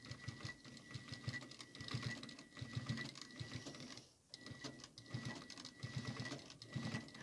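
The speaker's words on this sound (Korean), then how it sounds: "노루발 왼쪽 선에 이 바이어스 접은 선이 딱 맞으면 저절로 끝 박음질이 이쁘게 나옵니다." A sewing machine stitches bias tape onto a cotton slipper in steady, rhythmic bursts, pausing briefly near the middle before running on again. It sounds close and moderately loud, with no talking.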